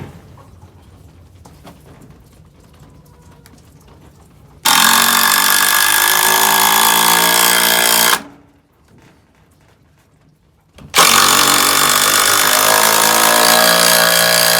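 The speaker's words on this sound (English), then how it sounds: "Let me get some pilot holes drilled." A power drill bores pilot holes in two loud, close bursts of steady whirring, each lasting about three to four seconds, separated by a short pause with no talking.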